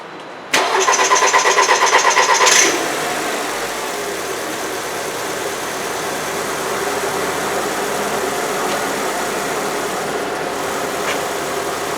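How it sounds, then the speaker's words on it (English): A 2008 Volkswagen Passat 2.0T engine with a no-power fault cranks over in a steady rapid rhythm for about two seconds, catches, then settles into a continuous idle that runs on, fairly loud and close. "so let me crank it over real quick."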